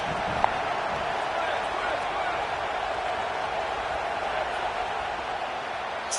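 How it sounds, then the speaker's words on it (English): Stadium crowd in a college football video game, a steady, loud roar of cheering fans filling the whole stretch without letup, with no clear voice standing out. "Fourth down, and this crowd is making it miserable on this offense."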